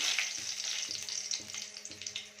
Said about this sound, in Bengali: তার মধ্যে দিয়ে দেব শুকনো লঙ্কাকে দুভাগ করে দিয়ে দিলাম